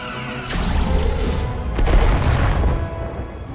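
Starship weapons firing in the Star Trek Resurgence video game, two heavy booming blasts about a second apart with long rumbling tails, loud and alone.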